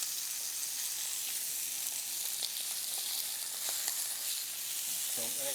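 Food sizzles and fries in a hot pan during a live Scottish cooking demonstration, a steady, loud, crackling hiss that runs without a break from start to finish.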